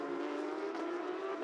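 A Porsche Carrera Cup race car at speed, a loud sustained high engine note holding steady as it passes close by, with a slight dip midway and no talk.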